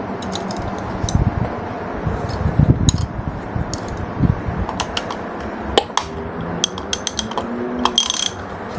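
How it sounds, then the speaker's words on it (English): A socket wrench ratchets on a bolt of a 1973 Harley-Davidson Sportster during oil seal, clutch lever and brake work, making loud, close, repeated clicking bursts in uneven runs with clanks between. "So a socket wrench on the one side, and we'll use just a wrench on the other side."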